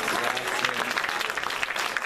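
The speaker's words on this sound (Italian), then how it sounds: "Mi fate sentire un bel applauso" Audience applause at a Christmas concert, a dense, lively burst of clapping from a crowd, steady and fairly close throughout the short stretch.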